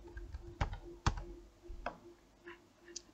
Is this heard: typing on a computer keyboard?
yes